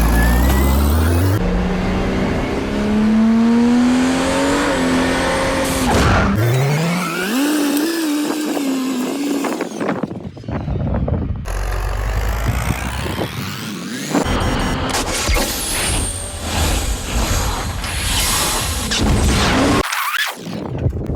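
A tractor engine roars while plowing a rough plot of land. The loud revving comes in several choppy stretches, with the pitch sweeping up and down as the machine pushes and strains.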